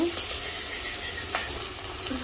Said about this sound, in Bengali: মাছের মাথাটা প্রায় আমার ভাজা শেষ